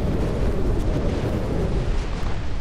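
Torpedo hit on a battleship in the naval game Ultimate Admiral: Dreadnoughts, a sustained loud rumbling explosion with heavy low-end roar filling the whole stretch, no voices.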